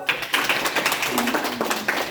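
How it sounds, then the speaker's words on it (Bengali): A burst of quick, dense hand claps from a small group, close and steady for a couple of seconds. "সবাই একসাথে একটা হাততালি দাও।"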